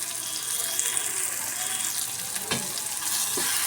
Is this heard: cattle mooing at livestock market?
no